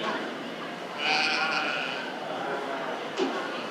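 A goat bleats at a 4-H livestock show in the ring for market goats, a moderately clear cry over constant crowd and arena hubbub, followed by a brief second call.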